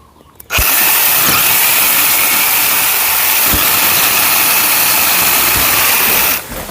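A small gas engine on an Osuka pole saw roars loudly and steadily at high revs after a sudden start, then drops off abruptly near the end.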